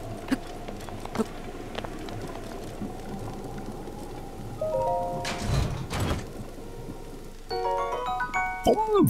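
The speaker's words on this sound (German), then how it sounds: "Es regnet gerade." Steady rain falls in Zelda: Breath of the Wild, a soft continuous patter through the whole stretch, joined by a few brief in-game chimes and tones near the end.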